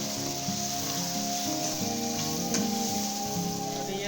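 Hot oil sizzling steadily in a pan as cloves, cinnamon, black cardamom and turmeric go in for dum bhindi, a continuous close frying hiss with faint stirring scrapes and a low hum underneath, no voices.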